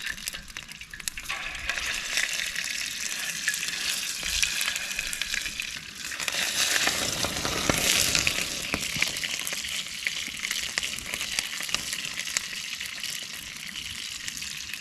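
Steaks fry in a hot pan outdoors in the Belgian Ardennes, giving a loud, continuous crackling sizzle that swells briefly midway and never stops. No one speaks.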